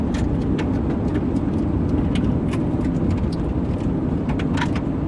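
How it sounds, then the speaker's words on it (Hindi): A car rolls along with a steady, loud road rumble and engine drone from inside the cabin, with faint clicks and rattles scattered over the constant noise and no voices. "मैं गाड़ी चला रही हूँ"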